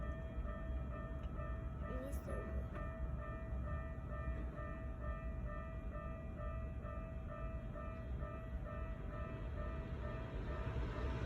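Keikyu local train passing a railway crossing at night, a steady loud rumble of wheels on track sustained throughout with faint tonal crossing signal lines above.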